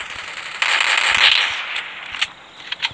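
Gunfire in the mobile battle royale game Free Fire: a sustained burst of crackling shots followed by a few separate sharp pops, fairly close and with no talking over it.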